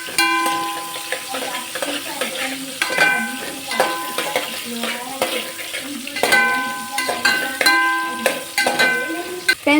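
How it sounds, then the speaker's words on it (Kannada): Onions sauté with cumin and whole spices in a pan for a hotel-style veg palav, with steady sizzling, stirring and a spoon scraping and clinking against the metal. A voice talks faintly in the background. "ಈಗ ನಾವು ಈರುಳ್ಳಿ ಹಾಕ್ಕೊಂಡಿದ್ದೀವಿ. ಈಗ ಈರುಳ್ಳಿನ ಚೆನ್ನಾಗಿ ಬಾಡಿಸ್ಕೋಬೇಕು"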